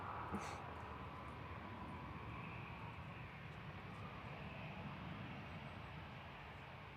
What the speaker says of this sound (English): Royal Emirates nearly with us, just taxiing out.